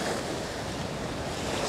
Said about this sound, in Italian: già vedo un po' di onda che sbatte